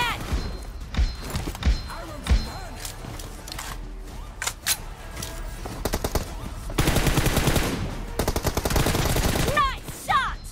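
Rapid bursts of automatic gunfire and single shots in a competitive video game shootout, loud and close, coming in clustered volleys with brief pauses and a dense sustained barrage near the end.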